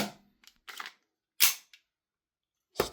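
An EMG Staccato CS 2011 compact gas blowback airsoft pistol, one with a slight gas leak, fires several sharp, close cracks spaced irregularly, some closely paired, with short hissy tails and silence between them.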